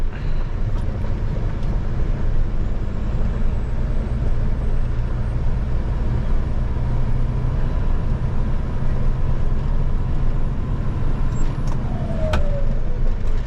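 A vehicle cruises with a low, steady engine and road drone as the driver shifts up into sixth gear. The noise stays loud and even throughout, with a faint rising whine near the end and no voices.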